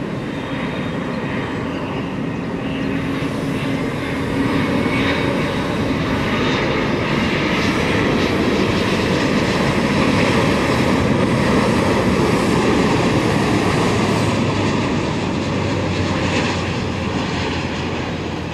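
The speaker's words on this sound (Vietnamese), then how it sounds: "Và bây giờ chiếc máy bay hạ cánh." A China Southern Airbus A350-900 comes in to land, its jet engines producing a loud, sustained roar that holds steady for the whole stretch with a faint rumbling undertone and no talking.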